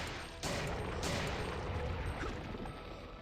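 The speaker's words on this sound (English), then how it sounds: "I need to be using the pistol here." Pistol gunfire in the video game Resident Evil 3, a couple of sharp shots cutting into a dense, rumbling background of game noise.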